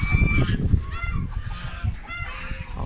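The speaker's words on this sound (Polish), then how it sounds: "Jak się perliki ganiają młode" Young guinea fowl squawk and chatter as they chase each other. The calls are rapid, overlapping and harsh, and they come from close by.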